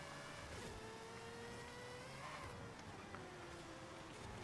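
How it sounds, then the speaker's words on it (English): A Mazda RX7 with a rotary engine accelerating out of a corner in a racing video game, a steady, buzzing engine whine rising in pitch over a constant loud rushing background. "I'm gonna accelerate out of this corner fairly quickly."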